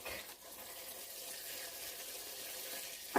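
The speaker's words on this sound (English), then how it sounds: "I thought I'm going to water some plants because they are in desperate need of a drink." Water runs in a steady, even gush for several seconds while plants in a garden are being watered, ending with a short clunk, and no one speaks.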